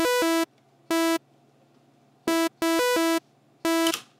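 A synth bass MIDI line played in Serum sounds as buzzy, harmonically rich stabs in short bursts of held and quickly changing notes with gaps between, loud and dry over a faint low hum, alone.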